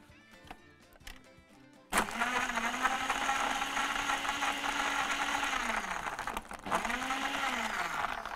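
A blender whirs loudly and steadily as it mixes a hibiscus drink with cinnamon and a little sugar, the motor pitch dipping and recovering midway, after a few quieter clicks and knocks before it starts.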